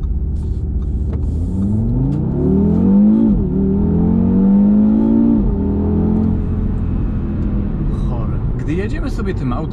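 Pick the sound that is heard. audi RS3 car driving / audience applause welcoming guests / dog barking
audi RS3 car driving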